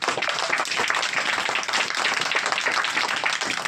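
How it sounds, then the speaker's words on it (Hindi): Children in a classroom clap their hands in steady, dense applause for two classmates, fairly close and even throughout. "चलो ताली मारो दोनों के नाम"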